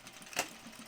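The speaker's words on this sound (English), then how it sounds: "I'm actually going to back stitch on all my sleeves here a little bit lower" A sewing machine makes a short, quiet burst of back stitching along a garment's sleeve seam, lasting well under a second amid low room hiss.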